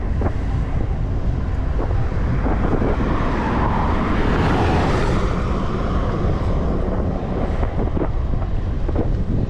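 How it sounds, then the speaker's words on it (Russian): Strong wind buffeting the microphone outdoors on a Crimean coastal route in September, a loud continuous roar that persists without a break. "Да, ветер, конечно, такое себе дело."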